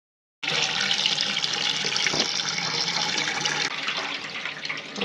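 A tap starts suddenly and pours steadily over polao rice being rinsed in a home kitchen, a close, continuous rushing stream with a brief knock partway through.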